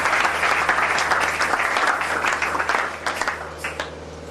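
A church congregation applauds during a worship service with loud, sustained, dense clapping that thins out into scattered claps toward the end.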